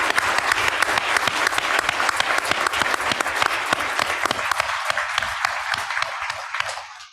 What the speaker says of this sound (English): if we can just do a quick round of applause for this